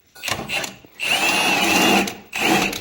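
Power tool removing the front bumper bolts on a Chevy Blazer, three close bursts of loud whirring and rattling, the middle one longest, with short pauses between them.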